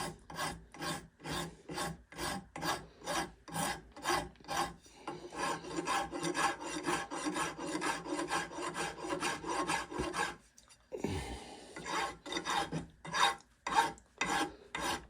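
A file rasps back and forth along a steel axe edge in steady rhythmic strokes, first separate pulses then a continuous scraping run, close and fairly loud, as the ring is cleaned up and the edge chamfered.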